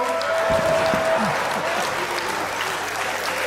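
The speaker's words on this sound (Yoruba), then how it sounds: "ẹ jẹ́ ká dìde ká pàtẹ́wọ́" A crowd applauds loudly and steadily throughout, dense clapping close by with a brief murmur of voices early on.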